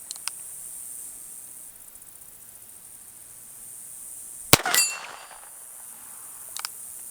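A single sharp shot from a Colt King Cobra 22 snubnose revolver at an outdoor range, followed by a bright metallic ring from a steel target, with a fainter clang later.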